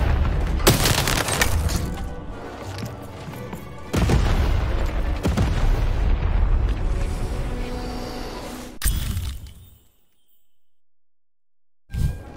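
Cannon fire in Lost in Random lands as a series of loud booms with crashing, shattering debris, several heavy blasts over about nine seconds before fading to near silence and a final thud.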